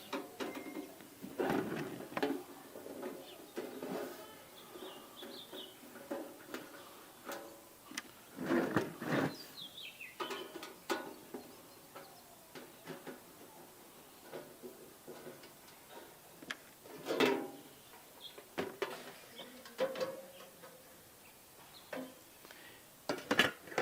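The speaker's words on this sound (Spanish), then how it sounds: "vamos a abrir este gabinete, tiene un par de tornillos de seguridad" Security screws are worked loose and the cover handled while opening a home alarm cabinet, making faint, scattered clicks, ticks and small plastic knocks in a quiet room.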